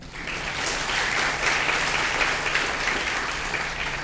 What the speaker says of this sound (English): please give a big round of applause for Professor Roy